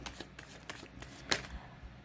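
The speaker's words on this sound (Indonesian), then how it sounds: "saya kocok kartunya" Tarot cards being shuffled by hand: a run of soft, papery riffles and slaps, one sharper snap near the end, close and fairly quiet with no talking.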